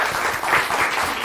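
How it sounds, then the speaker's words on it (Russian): An audience at a public-speaking masterclass breaks into a short burst of dense applause, steady and fairly loud, many hands clapping together with no voices over it. "Аплодисменты."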